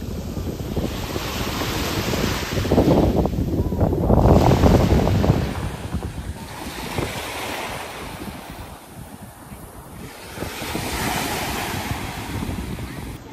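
Ocean surf rolls onto a beach in loud, surging swells that build and recede, with wind buffeting the microphone and no talk during the clip.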